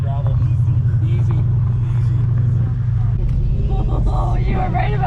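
Pontiac Trans Am engine rumbling steadily as the car accelerates along a gravel track, a loud low drone continuing throughout with people talking over it.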